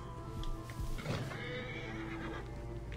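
A horse neighs loudly in a long whinny in Assassin's Creed: Origins, with the faint clop of hooves and steady game ambience underneath.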